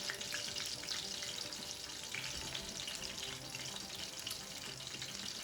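Breaded food pan-fries in hot oil, making a loud, dense, continuous sizzle and crackle close by that holds steady throughout.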